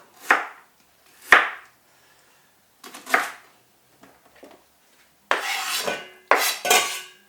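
Onions are diced on a chopping board with a knife, isolated sharp knocks spaced apart at first, then quicker scraping chops near the end, close and clear with no talk.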